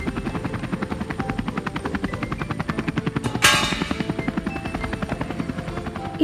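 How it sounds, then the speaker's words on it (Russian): A cartoon helicopter carrying a slide flies steadily with rapid, even rotor chopping throughout, joined partway by a brief bright whooshing sparkle effect, close and constant with no speech. "А вертолет несет горку"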